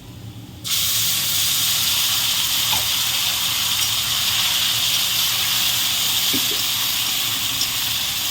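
Ground spice paste frying with browned onions for a village-style catfish curry, a loud, constant hissing sizzle that starts abruptly and runs unbroken with faint scraping.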